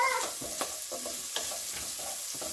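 Garlic fries with sausage in a pan, giving a steady close sizzle broken by light, repeated scrapes of stirring, with no voices.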